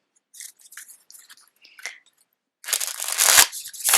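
Crisp papery riffling and crunching of flexible vintage photo tarot cards being shuffled, light flicks at first, then a louder, denser burst of rapid shuffling near the end.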